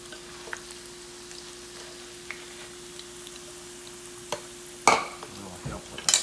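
Potatoes fry in a pan with a faint, steady sizzle over a low hum, then a spoon scrapes and stirs them in a couple of short, louder bursts near the end.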